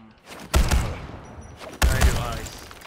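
Two bursts of gunfire firing ice bullets in Suicide Squad: Kill the Justice League, each a loud, sharp volley followed by a ringing tail, with a short gap between them.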